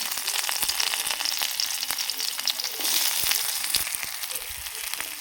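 Onion and a dried red chilli fry in mustard oil in a kadai, giving a steady close sizzle with scattered crackles and pops throughout, and no voices.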